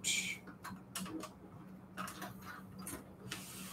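A sewing machine stitching a fabric mat, pivoting at a corner and backstitching, makes faint, short mechanical bursts of rapid ticking separated by brief pauses, fairly quiet.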